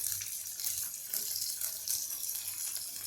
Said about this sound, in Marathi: हे पाणी मी यामध्ये घातलं आहे